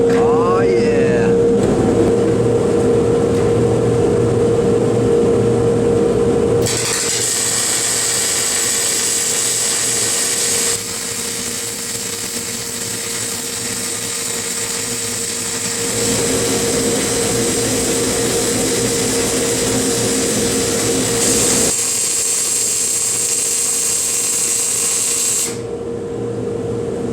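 An Avani SPC 2000 welding fume extractor runs loudly in a workshop, its continuous motor whine and airflow rush shifting in tone as it ramps up and down, with someone talking over it.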